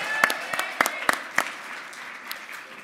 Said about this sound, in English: How about a round of applause for us?